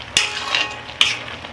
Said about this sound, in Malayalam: ഇത് എല്ലാം കൂടെ ഒന്ന് മിക്സ് ചെയ്ത് നന്നായിട്ട് ഇളക്കി കൊടുക്കാം